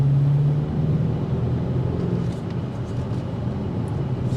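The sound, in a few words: 2025 BMW X5 M Competition accelerating at full throttle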